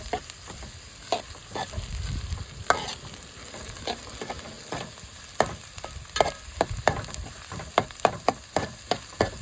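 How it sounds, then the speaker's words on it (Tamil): Onions sautéing in plenty of oil for a dry fish sambal, a busy close sizzle with repeated quick scrapes and taps of a spatula, quickening toward the end, no talking. "நல்ல நிறைய எண்ணெய் வெங்காயம் சேர்த்தா வந்து நல்லாயிருக்கும் சம்பல் நல்லா வதக்கிக்கிட்டே இருக்குன்னு"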